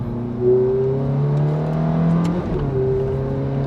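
A Ferrari F430 with 27,000 miles on it runs on the street, its engine holding a steady droning note with a brief surge of revs, then settling and rising again, close and prominent with no voices.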